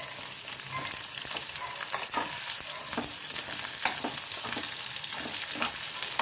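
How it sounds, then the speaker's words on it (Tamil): Green chillies and cinnamon sauté in a hot pan with a dense, even sizzle. A spatula scrapes and stirs at regular intervals, close and constant throughout. "இந்த மாதிரி நல்லா வதங்கிட்டுருக்கு"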